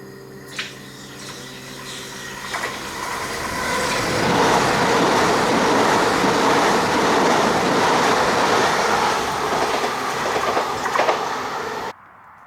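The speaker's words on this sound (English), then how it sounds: "Trains with 6 coaches, a high-speed train," A six-coach high-speed train runs through a new station, swelling from a low rumble into a loud, sustained rushing roar with rail clatter and faint squeals, then cutting off abruptly.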